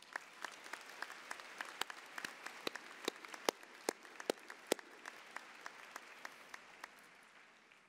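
Graduation ceremony audience applauding the Board of Trustees, a scattered round of individual claps ringing in a large hall, sparse and fairly faint, thinning out toward the end.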